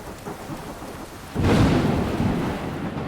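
Heavy rain pouring down in a stormy night with strong wind, steady hiss suddenly swelling as a loud thunder rumble rolls in and lingers over the downpour.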